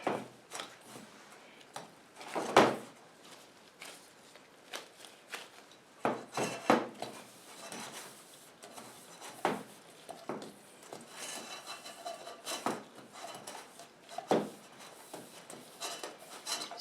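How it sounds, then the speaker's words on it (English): Hands kneading a sulfate-free shampoo bar mixture, soft irregular rubbing and pressing with occasional sharper knocks, quiet and close, no voices. "knead it together"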